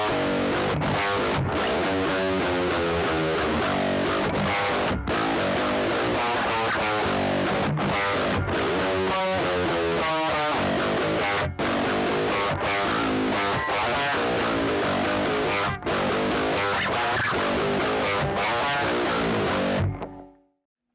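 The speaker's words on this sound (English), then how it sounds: "let's see how it sounds with the Friedman Overdrive pedal" Electric guitar played through a Friedman Overdrive pedal into a Neunaber Iconoclast speaker emulator, a loud, sustained overdriven riff with rhythmic chord stabs that runs for about twenty seconds and then cuts off.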